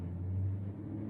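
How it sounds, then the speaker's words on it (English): A car passing outside a room, heard as a faint, brief low rumble and hum through the walls, with no other sounds. "It was a car outside."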